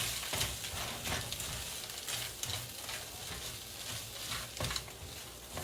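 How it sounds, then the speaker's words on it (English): Food fries in a pan while being stirred, a soft, close sizzle broken by irregular scraping and clattering strokes for several seconds, with no talking. "I'm just going to mix that around in there."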